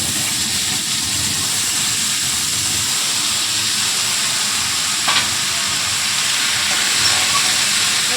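Bottle gourd stems sizzling loudly in a hot pan after a tempering of dried red chilli, a dense continuous hiss and steamy crackle with faint stirring underneath, close by and steady throughout.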